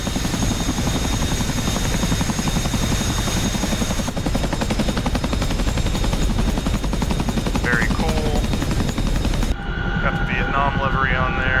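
CH-47 Chinook helicopter lifting off in the DCS flight simulation game: a loud, continuous rotor thump and turbine roar fills the whole span, briefly changing character near the end with some cockpit tones.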